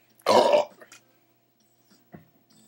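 A man lets out a loud, drawn-out belch, followed by a smaller trailing burp and a faint throaty sound after a pause.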